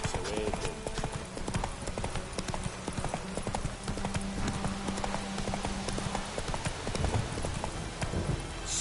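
Horse hooves gallop in The Witcher video game, a fast, steady clip-clop rhythm that runs continuously under a faint background tone and occasional soft voice.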